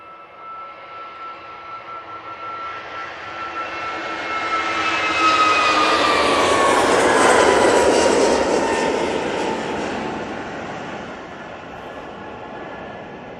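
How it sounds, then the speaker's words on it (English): An EasyJet Airbus A321neo jet passes at an airport, its engine roar swelling from distant to loud with a rising whine, peaking mid-way and then slowly fading, with no voices. "He's an A321neo for EasyJet."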